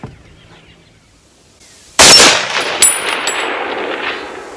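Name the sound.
AR10 .30-06 rifle shot ringing steel target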